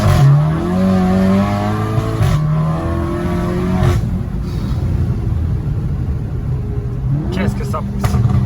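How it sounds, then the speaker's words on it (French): A 425 hp Stage 3 VW Golf 7 GTI revs hard and loud nearby, its engine note climbing and falling in repeated surges, with brief sharp pops between revs and a person talking over it. "Je crois que j'ai jamais vu une Golf de ma vie qui faisait autant de bruit."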